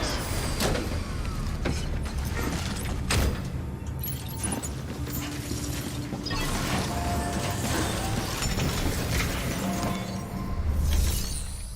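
Machinery in the Death Stranding video game clanks, slides and creaks as a vehicle is stored, a steady mechanical din with sharp metallic hits and a low rumble swelling near the end.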